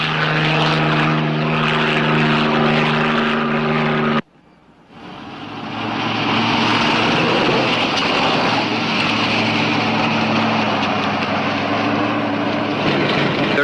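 Loud, steady engine drone of an aircraft with a throbbing rotor tone, briefly cutting out before resuming at full volume.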